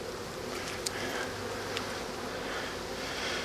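Honey bees buzzing around an open hive during an inspection, a soft continuous hum with occasional nearer insect passes, no talking.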